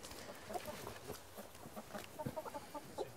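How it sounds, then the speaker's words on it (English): Soft clucking and murmuring from several chickens nearby, faint and continuous with scattered short calls. "Let's go see the chickens. There they are."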